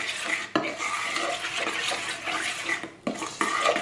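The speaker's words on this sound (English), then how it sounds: "I'm going to mix that in really well." A whisk beating a gelatin and pineapple mixture in a bowl for an old-fashioned jellied salad, giving a steady close scraping and sloshing with brief pauses and no talk.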